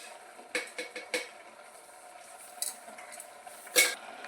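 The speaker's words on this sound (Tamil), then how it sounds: "நல்லா கிளறி விட்டுக்கணும்" A spoon stirs sambar in a cooking pot with vegetables, turmeric, sambar powder, asafoetida, salt, coriander, curry leaves, fenugreek and water, giving a few sharp metallic scrapes and clinks at irregular moments over a quiet background.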